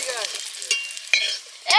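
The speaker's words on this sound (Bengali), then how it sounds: "একটা আলু ভাজা হচ্ছে তিনজন করে পরপর" Potatoes sizzle and fry in oil during a winter picnic, with a utensil stirring in a few short scraping bursts over a steady crackle, close and moderately loud.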